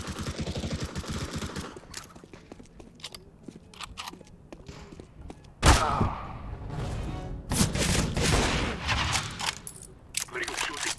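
Gunfire in the PUBG battle royale game on PC: bursts of shots crack out loudly around the middle and later, with talk running under and between them.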